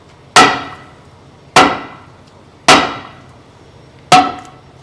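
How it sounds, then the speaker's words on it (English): A big hammer strikes a stuck truck brake drum four times at steady intervals, each blow a loud, sharp metallic bang with a brief ringing decay. "just grab a big hammer and you just hit the brake drum a little bit"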